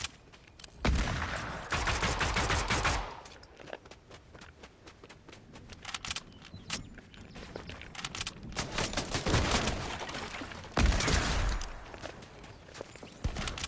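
Hunting rifle shots ring out in Fortnite among bursts of other gunfire and footsteps, with several sharp loud cracks spread over the stretch and rapid steps between them.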